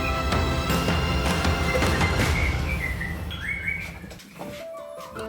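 Several white-rumped shamas sing and chirp over a steady hiss of background noise, with bright warbling phrases and whistles continuing throughout.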